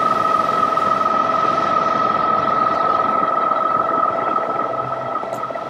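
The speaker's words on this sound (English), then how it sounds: "We're gonna go take it out on the road so you guys can hear the difference." Mihogo NX e-bike on quieter Kenda street tires rolling along a road at speed, a steady close whirring hum with a sustained tonal whine and broadband road and wind rush, no voices.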